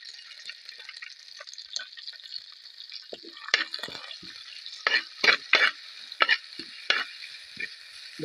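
Crushed ginger, garlic and green chilli frying in coconut oil, a soft steady sizzle with clustered bursts of crackling and spatter in the second half, close and alone.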